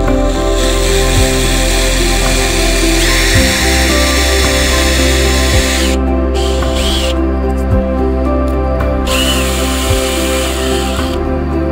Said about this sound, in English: it's always great when you can drill into a nice solid block of wood like that too